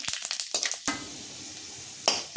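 Mace blades frying in hot oil for homemade Goda masala, a steady close sizzle with a few sharp crackling bursts at the start and another burst near the end, no voices.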